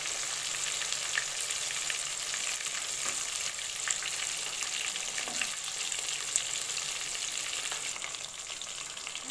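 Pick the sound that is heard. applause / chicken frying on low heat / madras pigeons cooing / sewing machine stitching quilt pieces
chicken frying on low heat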